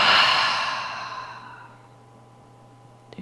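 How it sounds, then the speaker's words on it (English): A long, full exhale through the open mouth after a held breath during a breathing exercise, close and breathy, fading gradually into near silence. "Hold the breath at the top of the inhale, and then open the mouth to exhale fully."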